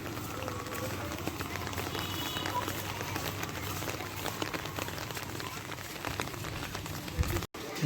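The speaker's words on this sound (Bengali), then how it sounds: "বৃষ্টি হইতেছে, বাতাসও আছে" Rain falls steadily in the wind outdoors, a faint continuous hiss of drops with no talking, cut by a brief dropout near the end.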